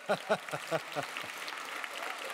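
A voice speaks briefly at the start of the clip, then applause from the crowd at an awards ceremony rises and continues as an even, moderately loud patter.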